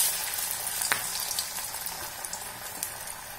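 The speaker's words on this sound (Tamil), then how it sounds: "இப்போ எண்ணெய் காஞ்சிடுது, நம்ம எப்படி போடலாம்னு பார்க்கலாம்." Banana vadai dough balls frying in hot oil give a steady, moderately loud crackling sizzle with scattered pops and a brief louder burst near the start, heard alone with no talking.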